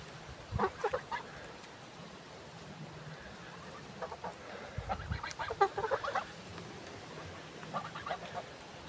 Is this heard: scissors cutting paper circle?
no